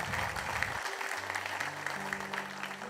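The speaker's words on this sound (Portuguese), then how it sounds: "Aplauda o Senhor, irmãos." Church congregation clapping during a sermon, a soft, distant patter of applause with a sustained organ or keyboard chord entering partway through and holding underneath.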